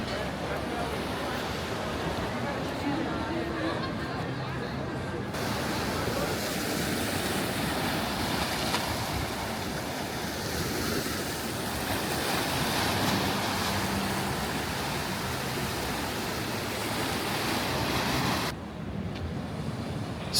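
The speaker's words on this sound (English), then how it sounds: "Sea is quite rough down here." Rough sea surf breaking on the shore at Benidorm, a steady loud wash of waves with wind buffeting the microphone for the whole stretch.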